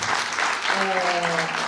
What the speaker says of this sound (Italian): la prego un applauso.